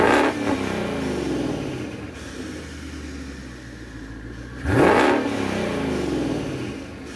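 A 2021-2022 Ford Mustang Mach 1 with a Gen 3 Coyote V8 and a Corsa H-pipe exhaust idles with a deep burble, gives a short blip, then revs sharply near the end and falls back to a rumbling idle.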